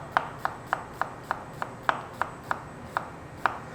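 A knife slices an onion into thin slices on a cutting board, giving about a dozen crisp, evenly spaced cuts close up in a steady rhythm.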